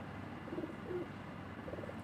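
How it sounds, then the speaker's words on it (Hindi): Pigeons cooing softly in a village courtyard with small rooms, a few low murmuring coos spread across the moment over steady background noise. "सामने देखें कबूतर"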